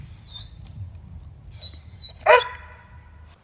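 A dog whimpers in high thin whines, then lets out a single sharp bark near the end, all against low outdoor rumble at a campsite by the water in the morning; the dog is straining to get at a squirrel.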